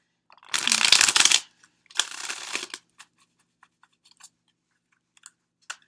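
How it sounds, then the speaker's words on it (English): Oracle cards are shuffled in two quick riffling bursts, followed by a few soft isolated taps and flicks as they settle. "So I'm going to go within, I'm going to shuffle"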